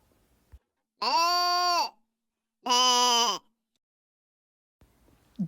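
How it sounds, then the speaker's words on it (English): Two drawn-out bleats from a lamb, clear and close, separated by a short pause, with a few faint rustles at the end. "Baa, baa, says the lamb."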